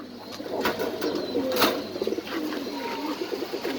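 Pigeons cooing at a pigeon farm in Mirpur, with soft, continuous cooing and bird calls layered over a steady background murmur, plus occasional brief flutters.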